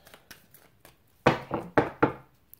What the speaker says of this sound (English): one more shuffle after this